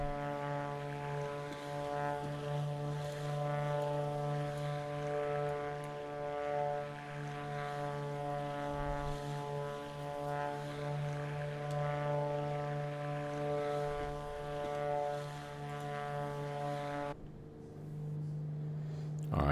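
Steady drone of a propeller airplane engine from a flight simulator game, modelled on a twin-engine Beechcraft Duke, with strong even harmonics held constant throughout and a brief shift in tone near the end as the listening position changes.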